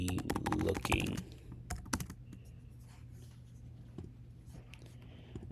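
A name is typed into a sign-up form on a computer keyboard: a quick flurry of close, crisp keystrokes, followed by a few sparse, softer taps over a quiet room.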